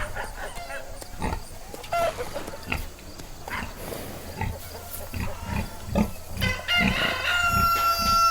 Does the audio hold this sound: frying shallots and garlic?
no